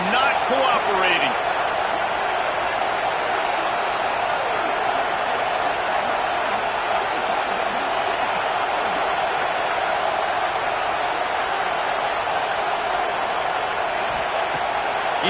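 A loud crowd roars continuously through a college football game between Auburn and Wisconsin near the goal line, a dense steady wash of noise that stays at full level throughout.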